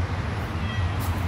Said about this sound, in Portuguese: Olha um gatinho miando, aquele gatinho que eu gravei.